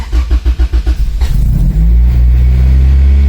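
A Honda Del Sol with a swapped B20 engine revs in short pulsing bursts, then climbs into a loud, sustained roar close by, with no one talking.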